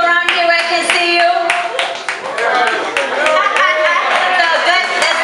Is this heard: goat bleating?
no